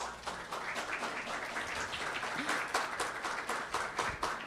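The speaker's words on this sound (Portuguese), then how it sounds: "Vou remeter as palmas para o professor Gilson." Audience applause for a professor at the close of an academic session, a continuous, even patter of many hands clapping at moderate level for the whole stretch.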